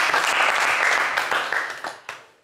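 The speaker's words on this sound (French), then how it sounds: "On peut l'applaudir très très fort." A studio audience applauds loudly for Charlie, a contestant on a French game show, the dense clapping holding steady before thinning out and fading over a couple of seconds.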